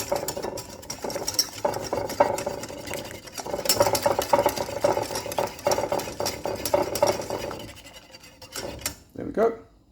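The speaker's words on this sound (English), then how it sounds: "we're going to get a whisk and mix it all together" A whisk beating vegan omelette batter in a bowl, rapid rhythmic clattering strokes in close bursts, pausing briefly and then stopping with a final knock.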